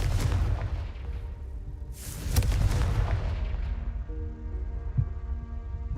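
The Confringo blasting spell in Hogwarts Legacy sets off a heavy explosion. Deep booming rumbles swell, peak with a bright crack, then fade into a low decaying rumble and a final thud.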